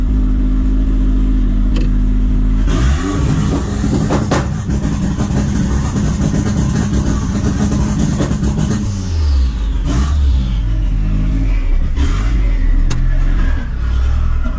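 A turbocharged 400 hp Nissan Hardbody pickup engine held on a two-step limiter at 3,000 RPM, loud and close, idling first, then a long burst of harsh crackling limiter revs before settling back to a rough idle.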